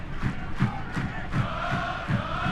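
Stadium crowd at a soccer match between Detroit FC and Michigan Stars, a steady roar of fans with rhythmic chanting pulses and drum-like thumps, continuous and moderately distant.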